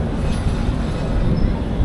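Passenger train at Krishnanagar railway station, a loud, steady low rumble of rolling wagons with faint metallic squeal, continuous and close.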